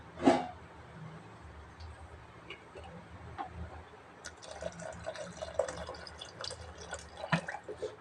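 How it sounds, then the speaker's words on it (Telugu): Water is poured from a height into a cooking pot while a tamarind and mutton stew is being made, a soft steady splashing trickle with a few louder drips in a quiet kitchen. "ఇలాగే కొంచెం వాటర్ వేస్తున్నాం"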